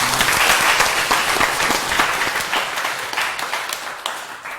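An audience at a Buddhist monk's lecture claps in a dense burst of applause that starts strong and slowly thins out and fades over a few seconds.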